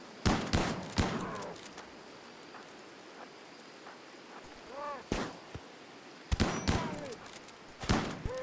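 Colonists fire guns during a fight in RimWorld: sharp, separate shots come in small clusters with quiet gaps between them. The volume is moderate, with a faint hiss in the background.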